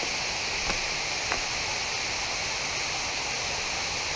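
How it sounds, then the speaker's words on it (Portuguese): Steady, even rush of falling water at Cachoeira da Bica waterfall in Campo Maior, Piauí, Brazil, a continuous broadband roar heard from a short distance with no voices. "A cachoeira tá bem ali já."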